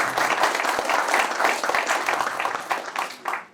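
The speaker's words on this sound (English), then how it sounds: "give him a round of applause." Audience applause at a men's health conference, a burst of lively clapping from the room that swells and then tapers off over a few seconds.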